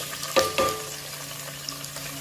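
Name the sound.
onion frying in hot oil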